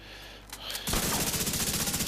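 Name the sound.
exotic weapon gunfire in video game The Division 2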